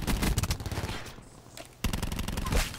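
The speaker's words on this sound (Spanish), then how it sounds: "escucho disparos más adelante" Bursts of automatic gunfire in Black Ops 4 crackle in dense rapid volleys, pausing briefly before another loud stretch of shooting resumes.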